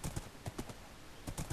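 Horse hooves clip-clop in a video game, a quick irregular series of light hoofbeats at moderate distance over a faint steady background.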